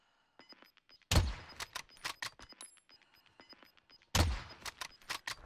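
Gunfire in an online video game shooter, two sharp heavy blasts about three seconds apart amid a scatter of quieter clicks, taps and thuds, fairly faint overall with no talk.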